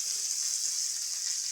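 Chopped vegetables sauté in hot oil in a pan for village-style egg fried rice, giving a steady, close, even sizzle with no break.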